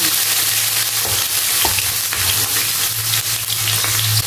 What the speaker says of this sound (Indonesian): Panaskan wajan, minyak, kita tumis bumbunya.